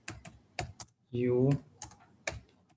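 Crisp keystrokes on a computer keyboard come in short clustered bursts, close and clear, broken once by a brief spoken word.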